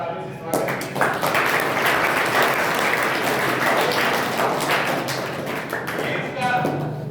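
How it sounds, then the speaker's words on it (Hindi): Students clapping at a school quiz for a Constitution Day celebration, dense sustained applause from a crowd filling the room with steady close clapping throughout. "जोरदार तालियों से स्वागत कीजिए।"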